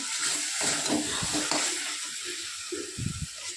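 Chicken added to spiced masala sizzles and fries in a pan with steady stirring, giving continuous close frying hiss broken by scraping stir strokes and no talk.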